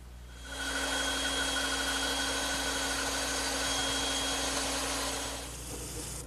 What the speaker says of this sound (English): I'll just trace the outline and cut it over on my bandsaw.